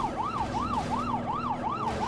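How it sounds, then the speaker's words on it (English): A police car siren in the video game Dead Rising 3 wails up and down in a rapid, repeating cycle, loud and close, with an engine rumbling underneath and no talking. "Can you turn off the siren?"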